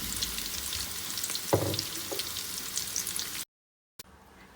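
Stuffed bitter gourds fry in ghee in a pan, a steady soft sizzle and crackle with a brief stirring clatter partway through, then a short silence.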